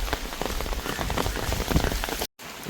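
Steady rain pours onto surfaces near a coastal village in Karainagar, a dense continuous patter of drops close by with no voices, broken by a brief dropout near the end.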